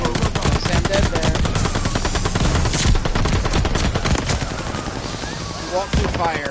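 Dense rapid gunfire in the Call of Duty Vanguard game, bursts of automatic shots and explosions stacked close and loud, almost continuous through the stretch with only brief dips.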